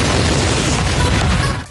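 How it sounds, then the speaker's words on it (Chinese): Drone strikes hit residential buildings in a war zone, producing a dense, loud, continuous roar of blast noise that rumbles throughout and tails off at the end. "爆炸声响彻云霄"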